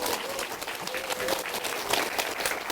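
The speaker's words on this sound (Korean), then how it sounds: "박수소리가 별로 안 큰데요." Lecture audience applauding steadily for a few seconds, a dense, even patter of many hands with no pauses or talk.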